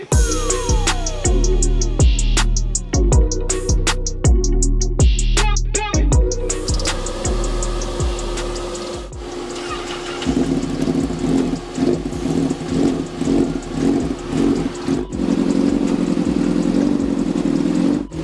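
A rebuilt 2008 Honda CBR1000RR engine runs close and loud, with sharp repeated blips and clattering bursts early on, then settles into a rougher, steadier idle with a rhythmic pulse.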